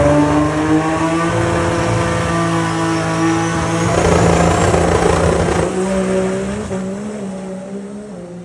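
A turbocharged drag racing car with a 181 cubic inch motor on 125 pounds of boost makes a pass at Orlando Speedworld Dragway, roaring loud and near with a sustained droning tone that rises, then fades as it pulls away.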